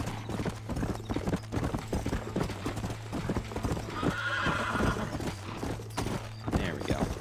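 Video-game horse with rhythmic clip-clop of hooves throughout and a loud whinny partway through, set over a steady low background hum.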